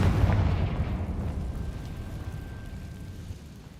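A Confringo fire spell explodes in the video game Hogwarts Legacy: a heavy, rumbling blast opens loudly, then fades slowly into a long, low tail, with no talk over it.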